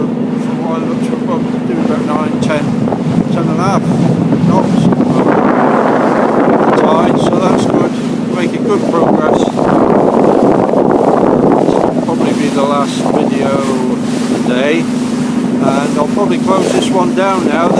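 A boat running at about 9 to 10 knots with the tide, steady broadband wind buffeting on the microphone and a constant low engine drone throughout, with a person talking over it at times.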